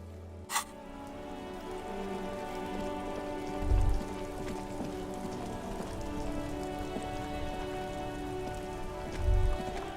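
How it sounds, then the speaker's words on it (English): Steady rain patters on a police car's white-on-blue livery in the Disco Elysium game world, a continuous soft drumming with a sharp click near the start and two dull low thumps later, no voices. "Droplets of rain fall on the white on blue police livery of the motor carriage."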